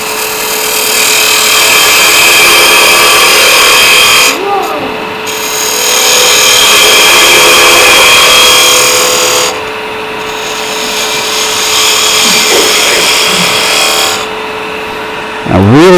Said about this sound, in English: And for this, I'm going to use my 3/8 spindle gouge.